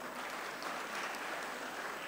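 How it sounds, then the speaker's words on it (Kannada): An audience claps for a musician at a tabla concert at Rangadhama, Sirsi, a steady, even patter of many hands that stays fairly quiet and distant for about two seconds, with no voices over it. "ಆ ದೃಷ್ಟಿಯಿಂದ ಮತ್ತೊಂದು ಚಪ್ಪಾಳೆ"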